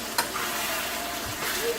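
Onions and steak sizzle loudly in a hot pan and are stirred, the frying hiss steady and close and broken by a brief scrape of a utensil.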